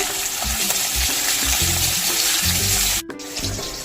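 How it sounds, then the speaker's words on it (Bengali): Pieces of catla fish rubbed with salt and turmeric fry in hot oil with a steady, loud sizzle, broken by a few low clunks and a sudden brief cutoff near the end before the crackle resumes. "প্রথমেই মাছটাকে নুন হলুদ মাখিয়ে হালকা ভেজে নেব।"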